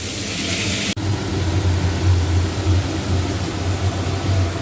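A click, then a steady motor drone with a low rumble, like an electric grinder running continuously close by, grinding ginger, garlic, coriander, cumin, chilli and onion into a paste.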